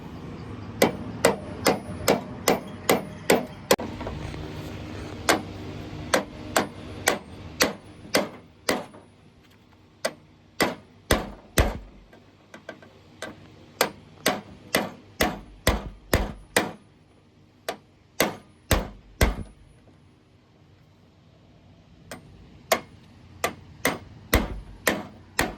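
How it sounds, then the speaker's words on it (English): A spring-loaded tool taps repeatedly while a 1970 E-body car door is being taken apart, making sharp metallic clicks in fast bursts of several strikes with short pauses between groups, loud and close. "you put it all the way down to the bottom like so, and you just start tapping"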